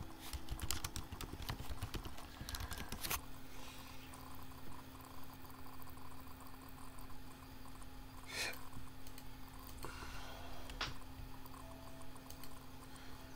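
Fairly faint computer keyboard typing, a quick cluster of key taps early on followed by a few scattered clicks over a low steady background hum.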